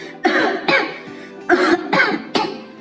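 Five separate coughs break out one after another at slightly uneven intervals, each a short harsh burst, as someone hacks on smoke in the air. No other sound is heard.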